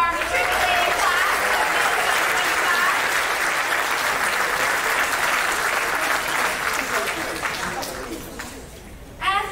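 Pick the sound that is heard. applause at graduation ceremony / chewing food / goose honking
applause at graduation ceremony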